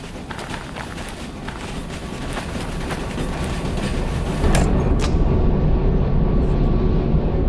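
Freight cars being shoved backward in the train game Derail Valley, a steady rumbling roll with clicks and clanks that grows louder, and a sharp knock near the end.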